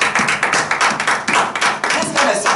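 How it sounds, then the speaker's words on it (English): A church congregation claps for Jesus, giving a steady run of close, loud, rhythmic claps with no gaps. "Now we are clap for Jesus."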